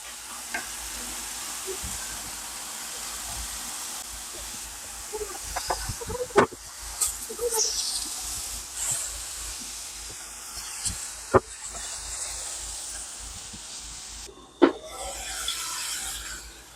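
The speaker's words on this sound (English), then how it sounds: "You can see that the grease or the oil is still bubbling" Four-ounce burgers sizzle in bubbling grease on a cast aluminium griddle pan over a portable double electric burner, a continuous close hiss with occasional sharp pops and spatula scrapes, and no speech.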